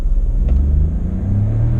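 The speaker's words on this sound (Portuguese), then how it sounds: "Quero mostrar para vocês agora a aceleração desse carro de 0 a 60, como uma arrancada em um semáforo" A VW Nivus SUV pulls away hard from a standstill at full throttle, as if launching from a traffic light. The engine's deep, close rumble swells and climbs steadily in pitch without a break, with no talking over it.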